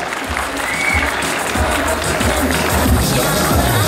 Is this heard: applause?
yes